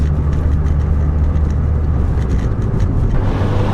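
A Nissan Pulsar GTI-R drives through open countryside, its engine and road noise forming a loud, steady drone that holds without a break for the whole stretch, with no talking.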